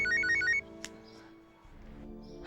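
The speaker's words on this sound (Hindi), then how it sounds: "फोन किसका बज रहा है?" A mobile phone ringtone plays a short, bright melodic phrase, then cuts off, leaving a quiet room with faint background hum.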